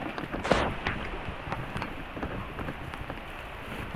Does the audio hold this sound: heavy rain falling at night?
yes